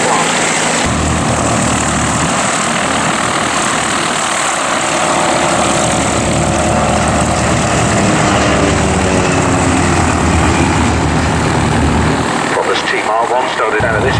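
A propeller aeroplane flies at an Old Warden flying day, its engine a loud, continuous drone that holds steady for the whole stretch and shifts slightly near the end.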